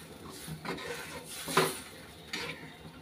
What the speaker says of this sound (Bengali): নাড়া দিয়ে দিলাম।